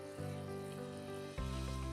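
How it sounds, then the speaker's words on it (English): Water boiling and sizzling in a hot pan as browned bits from miso garlic minced pork are scraped off the bottom to deglaze it; a steady close hiss that swells louder about two-thirds of the way through. "gently scraping off the brown bits at the bottom of the pan while the water is boiling"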